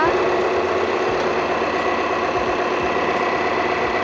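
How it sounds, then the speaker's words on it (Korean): A Volkswagen CC 2.0 TDI diesel engine idles steadily, a low, even clatter with a regular rhythmic knock and constant hum. "그리고 엔진 소리 일정하고 좋습니다."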